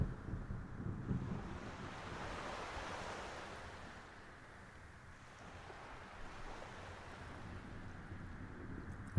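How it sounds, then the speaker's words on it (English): Wind mixed with ocean waves from a white noise app, a soft steady surf wash with a breathy wind layer that swells and eases, quiet and continuous. "And then let's add some wind to it."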